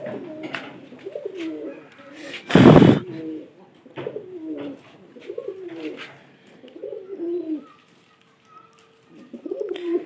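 Several pigeons coo in repeated throaty phrases close by, broken once by a short burst of flapping wings.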